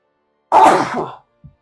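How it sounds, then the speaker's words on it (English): Single loud, close sneeze-like burst with a harsh throaty quality, alone, followed by a faint short breath. "I try not to sneeze."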